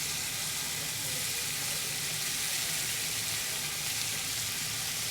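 Beef searing hard in a pot for a beef and kale stew, a steady, close, loud sizzle with a bright hissing spatter that holds evenly throughout.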